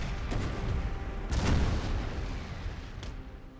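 Artillery barrage in the Napoleon Total War video game: a dense, continuous rumble of distant cannon fire with several sharper booms standing out, rolling on without pause.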